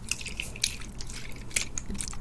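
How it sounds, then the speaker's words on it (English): A little water is used in a close-up ASMR session, giving small wet drips and crisp crackling taps scattered unevenly over a couple of seconds. The sound is near and intimate, with no voice. "I will be using a little bit of water."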